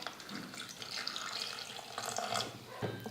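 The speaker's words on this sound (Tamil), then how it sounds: "வாழைக்காய் வேக வைக்கிறதுக்கு இன்னும் கொஞ்சமாக தண்ணி சேர்த்துக்கிறேன்" Water pours in a steady, splashy stream into a pot of sliced raw plantain, close and continuous for a few seconds, with no voices.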